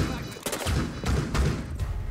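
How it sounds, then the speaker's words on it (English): Frag grenade exploding in Rainbow Six Siege, with several loud broadband blasts and crackling gunfire-like bursts in quick succession over game background noise. "Frag grenade."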